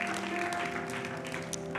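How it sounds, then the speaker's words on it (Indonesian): A church congregation applauding, with dense continuous clapping close and loud throughout a short burst, and faint voices mixed in. "Berikan tepuk tangan buat Tuhan"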